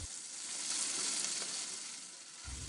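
Onions sizzle and fry in a pan without any oil, a steady hiss that swells slightly and then eases, close and alone.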